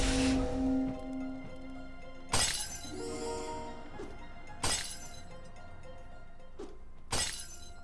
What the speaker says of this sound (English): I could not imagine a game that would penalize you for smashing pots